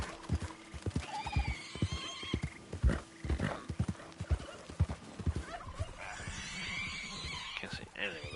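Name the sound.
horse hooves clip-clopping and neighing in video game Red Dead Online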